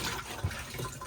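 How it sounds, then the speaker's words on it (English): Water rushes through the bowl of a caravan cassette toilet in a Bailey Alliance 66-2 motorhome, a steady close flushing gush with a small gurgle partway through. "Give it a good flush after use"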